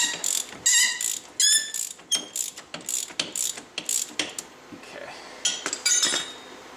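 A ratchet wrench loosens a bolt during strut replacement on a Saturn S-Series car, giving rapid bursts of metallic clicking in several close, loud runs with short pauses between them.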